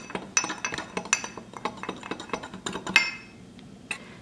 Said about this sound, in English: So in my cup, I have 1/4 cup of flour, about 1 teaspoon of salt, and 1 teaspoon of pepper. So I'll mix it all together.